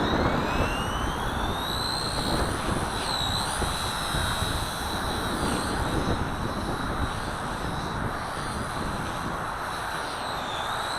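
A small RC helicopter with K110/K123 blades flies with its motor bogging during gentle manoeuvres, producing a continuous high whine with wavering pitch over steady rotor wash throughout.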